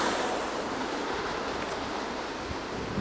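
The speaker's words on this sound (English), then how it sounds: "here are the waves coming in right along sidewalk area" Ocean waves wash in along a seaside sidewalk on Ali'i Drive in Kailua Kona, giving a constant, loud, hissing surf roar with wind buffeting the microphone throughout.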